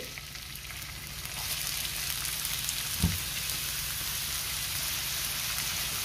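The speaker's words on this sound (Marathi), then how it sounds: "तेल गरम झालंय, त्यामध्ये मी कांदा घालते" Chopped onion drops into hot oil in a pan on a gas stove and sizzles steadily, a brief thump at the moment it lands, the frying hiss continuing evenly with no talk.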